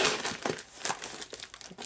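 Paper packaging from a box of eBay junk parts being crumpled and crinkled by hand, a run of crackly rustling bursts, close and moderately loud, no talk.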